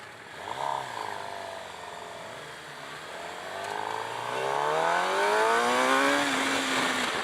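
A 2017 Suzuki GSX-R 750 sport motorcycle engine revs and climbs steadily in pitch as it accelerates, growing louder and staying prominent throughout with a dip after an early throttle blip.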